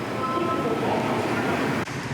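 Steady low rumble of a subway train in motion in Daegu, South Korea, a continuous droning roar with faint background chatter and a brief dip near the end.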